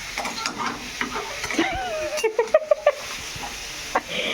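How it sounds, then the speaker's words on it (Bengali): A spatula scrapes and stirs chicken curry frying in a pan in a home kitchen, with soft sizzling beneath a string of sharp metallic clacks near the middle, close and moderately loud. "রান্না করতে গেলে স্টাইলিশ মানে হোটেলের স্টাইলের খুন্তিটাকে নাড়ায়"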